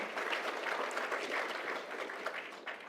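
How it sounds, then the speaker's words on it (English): A big round of applause from the audience at an AI awards ceremony, continuous dense clapping heard from a moderate distance, fairly even throughout. "So I just want to give a big round of applause to Ken,"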